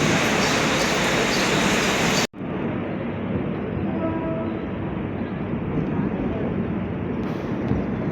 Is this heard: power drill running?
no